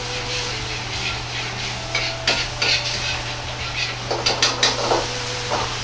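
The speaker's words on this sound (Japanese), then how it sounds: "軽く混ぜ合わせ、カレー粉を溶いていきます。" A spoon stirs curry powder into ramen soup in a pot, with soft scraping swirls and a few light clinks against the metal over a steady kitchen hum.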